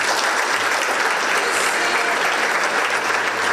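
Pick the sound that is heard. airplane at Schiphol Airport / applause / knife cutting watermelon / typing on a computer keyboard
applause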